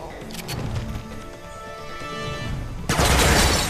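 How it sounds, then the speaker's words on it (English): Gunfire in the video game 007 Quantum of Solace, dense rattling bursts under game ambience, jumping to a louder, sustained volley near the end. "Who's shooting?"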